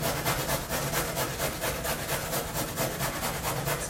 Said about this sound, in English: I'm going to just grate 2 carrots for the sake of time today